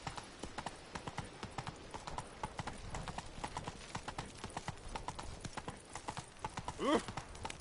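Roach, the horse in the game The Witcher 3, trots with steady rhythmic hoofbeat clip-clops, close and fairly quiet, ending in a short whinny near the end.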